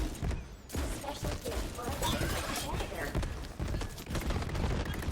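Repeated shots from the Echo pistol in the video game Borderlands 3, a steady run of cracks amid busy combat noise, with someone talking underneath.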